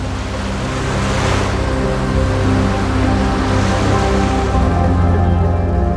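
Rough ocean surf on the rugged Wild Coast, heard up close from a boat during a surf launch: a loud, continuous rush of breaking water with a steady engine drone underneath.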